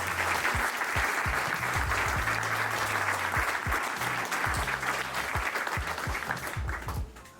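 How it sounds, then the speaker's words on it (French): Warm, continuous applause from an audience at a Black History Month gathering in Quebec, dense clapping holding steady before tapering slightly at the end, with low murmurs mixed underneath. "Je voudrais vous demander de les applaudir"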